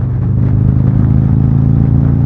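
A 2024 Harley-Davidson Street Glide touring motorcycle with ST package upgrades runs loud and close, a steady deep rumble with a slight rise in revs throughout.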